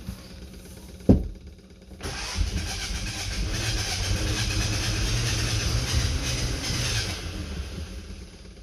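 An old vehicle's engine that had sat for 50 years catches after a sharp bang, then settles into a rough, steady running rumble with a hissy rattle, close by and alone.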